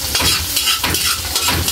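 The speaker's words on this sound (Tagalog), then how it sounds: "maglagay na tayo ng bawang gisa" Garlic sautéing in a hot pan: a dense sizzle with repeated scraping and stirring strokes of a utensil against the pan, close and fairly loud, with no talk.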